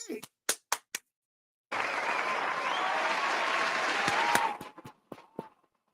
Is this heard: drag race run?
no